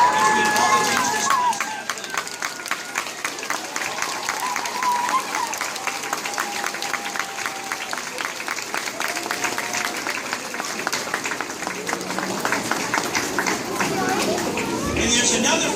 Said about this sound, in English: please help me in celebrating and cheering for it